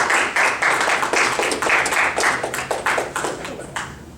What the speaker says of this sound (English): So would everyone join in giving them a round of applause?